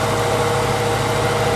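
A Jeep engine idling on its own at a dealer auction, a loud, steady close-up hum with an even low vibration and no change in pace, no voices over it.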